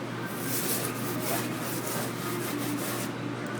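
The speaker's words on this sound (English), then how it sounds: "So now I'm scrubbing the walls." Walls being scrubbed with a degreaser and bleach cleaner at a quiet workplace, a steady close rasping rub of brush on wall surface that continues without break.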